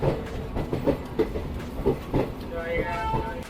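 The Dibrugarh Vivek Express rumbles and clatters along the rails departing Bongaigaon railway station while a voice talks over it, with a rising mechanical whine near the end.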